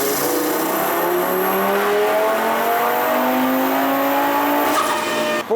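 A tuned car running JB4 Map 3 roars on a dynamometer, engine pitch climbing steadily through one long, loud full-throttle pull before cutting off abruptly at the end.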